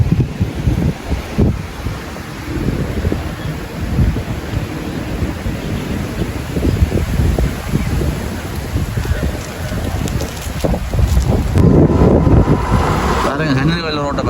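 Stormy coastal weather in Jaffna, with heavy rain and gusting wind roaring continuously and loud surf crashing beneath, a dense unbroken wash of noise throughout.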